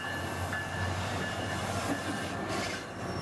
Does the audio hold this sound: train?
yes